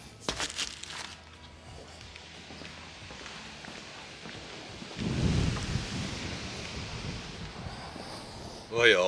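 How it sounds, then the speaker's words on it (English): Steady wind blowing and rushing past the microphone, with a strong gust buffeting it partway through and a brief clatter at the end. "it is a windy day"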